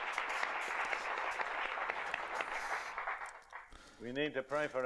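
Audience applause at a church teaching on spiritual gifts, a dense patter of clapping for several seconds before fading, followed by a voice speaking.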